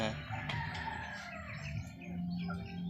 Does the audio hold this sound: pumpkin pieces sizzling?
no